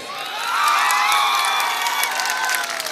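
A crowd at a political rally in Bihar erupts in cheering, whoops and shouting with clapping underneath, swelling quickly and holding loud and sustained before easing slightly.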